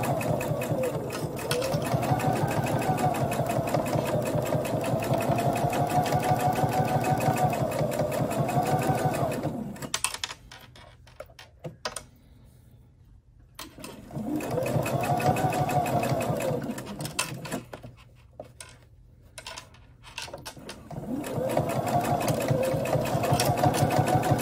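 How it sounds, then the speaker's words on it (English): A sewing machine stitches around a fabric Halloween mask with a 1/4 inch seam allowance, its steady motor hum running in long loud bursts separated by short quiet pauses where pins are pulled. "we're just gonna stitch all the way around using our 1/4 inch seam allowance, taking the pins out as we go"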